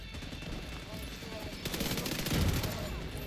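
Gunfire and a frag grenade blast in The Division 2 video game, a continuous crackle of fusillade that swells louder partway through, heard at moderate distance.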